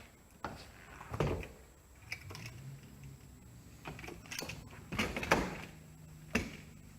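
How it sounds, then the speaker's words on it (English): A stiff entry door on a shuttle bus RV conversion is worked open and shut, giving scattered knocks, creaks and clunks over a faint steady hum, with no voices. "The door moves kind of stiff, but I kind of like that."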